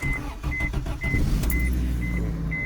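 A Honda Civic with a swapped D16Z6 engine idles and runs close by with a steady low rumble, while short high-pitched electronic beeps chime repeatedly over it.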